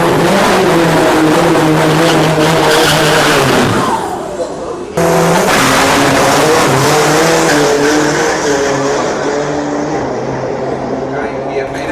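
A modified Isuzu D-Max drag truck fitted with a turbo runs at Asia's biggest drag race, giving a loud, sustained roaring engine with shifting harmonics, a brief drop near the middle, then a second roaring pass.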